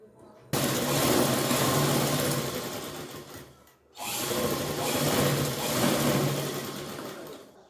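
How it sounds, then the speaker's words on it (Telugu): A sewing machine stitches a child's frock in two long runs of fast, steady needle chatter, the first starting abruptly and tapering off, then a short pause before the second run, heard up close without talk. "పెట్టి మళ్ళీ ఇంకొక స్టిచ్ వేస్తున్నాను"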